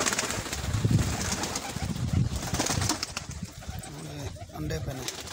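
White pigeons coo in low, rolling, repeated calls close by in a Dubai pigeon enclosure, while people talk over them throughout.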